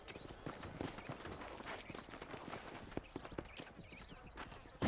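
Horse hooves clip-clopping in the video game Red Dead Redemption, a quick, irregular run of hoofbeats under ambient game sound, fairly faint and steady throughout.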